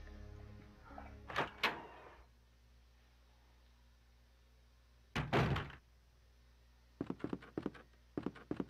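Heavy door thuds and latch clunks in the Resident Evil 2 remake, spaced apart: one solid knock-like impact early, another a few seconds later, then a quick cluster of clicks and bangs, close and loud over a quiet ambient hum.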